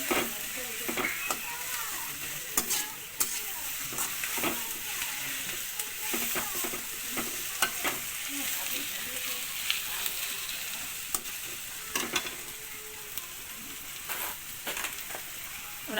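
Capsicum, carrot, onion, green chilli and tomato are stir-fried in a pan with a steady sizzle, while a spatula scrapes and knocks against the metal in irregular strokes throughout, close and moderately loud.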